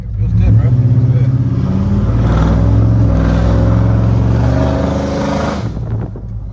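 A 1999–2007 Silverado truck fitted with solid motor mounts drives close by, its engine a loud, deep, continuous rumble that swells and then eases slightly toward the end.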